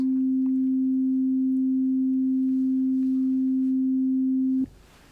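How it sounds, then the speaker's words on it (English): A pure, steady sample-based sine tone from a Kurzweil K2700 synthesizer holds at one low-mid pitch for several seconds, then cuts off abruptly into faint background noise. "And then the sine wave."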